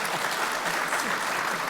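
An audience at a print industry summit claps for a panel discussion, a steady wash of applause from many hands that fills the whole moment.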